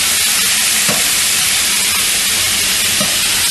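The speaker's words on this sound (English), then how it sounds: "That cold chicken goes into the pan, and you can hear it's still frying" Loud, steady sizzling of about 6 kilograms of cold chicken frying in a hot pan, a constant hiss with occasional soft clinks and stirring sounds.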